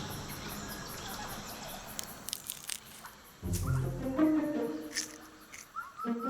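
A plump bush cricket in a Hainan rainforest, with chirping and insect buzz over dense forest ambience, followed by louder rustling, crunching movement partway through.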